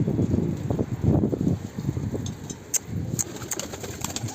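Soft, low cooing of a sick pigeon repeating in short phrases, fairly close, with some light rustling and faint clicks in the background.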